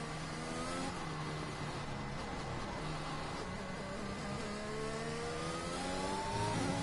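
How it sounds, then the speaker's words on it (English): An Aston Martin race car in a racing video game accelerates hard, its engine note climbing steadily through the gears in a constant, loud whine with no voices. "Good exit out of the corner and driving that nice Aston Martin car"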